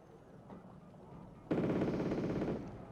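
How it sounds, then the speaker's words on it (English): Aircraft strafe with rapid machine-gun fire in a real-time strategy video game, a single loud, dense burst lasting about a second after a quieter lead-in of distant battle rumble. "Again, coming in and strafing."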